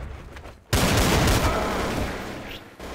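Burst of loud, close gunfire in the Counter-Strike: Source shooter game, erupting suddenly after a quiet start and rolling on as sustained rapid shots with a booming tail for over two seconds.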